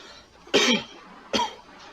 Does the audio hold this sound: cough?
yes